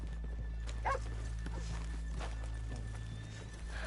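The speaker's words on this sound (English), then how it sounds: "let's leave the horses here off the main drag" Horses in the Red Dead Redemption 2 video game, with hooves clip-clopping on a town street off the main drag and a brief whinny, heard close over a steady low background hum.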